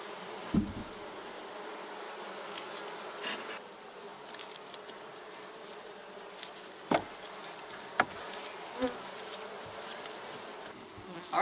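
Honey bees hum steadily around an open horizontal hive, a soft continuous buzz with a few faint clicks and knocks from the hive and no voices.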